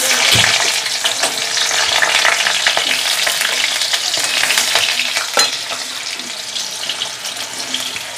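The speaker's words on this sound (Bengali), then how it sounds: "আলুটা একটু ভেজে নেব।" Potatoes frying in hot oil for a vegetarian shahi mixed paneer dish give a dense, steady sizzle throughout, loud and close, with occasional stirring clatter.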